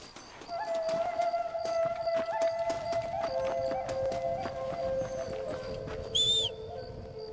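Horse hooves clip-clop steadily through Red Dead Redemption gameplay, a continuous rhythmic trot with tonal in-game ambience and a brief high chime near the end, and no one talking over it.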